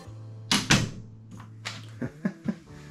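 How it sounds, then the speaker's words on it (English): A newly installed interior door in a small shed converted into a tiny house in the woods swings shut, giving a couple of sharp latch clicks and knocks followed by a few lighter taps, close by with a faint low hum beneath. "That's a long missed click on the door."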